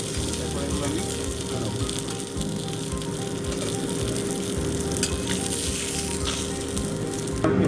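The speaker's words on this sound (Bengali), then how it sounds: "আমার মাছ ভাজা হয়ে এসেছে, খুব কড়া করে ভাজবি" Pieces of rohu fish fry in hot oil with a dense, steady sizzle and crackle that stays close and loud throughout, while a voice talks faintly beneath it.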